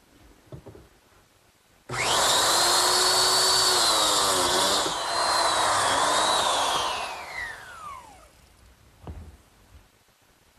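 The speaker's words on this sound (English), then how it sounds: "that's to cut some biscuit slots in the bottom of this lower rail and at the very bottom edge of the side panel" A biscuit joiner cuts slots into the bottom of a wooden lower rail and the edge of a side panel. It gives one loud, sustained high whine of about six seconds, then spins down. No one speaks.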